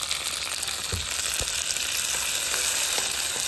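Halved cherry tomatoes land in a hot pan at a campsite breakfast, the steady loud frying sizzle continuing throughout with a few soft stirring knocks beneath it.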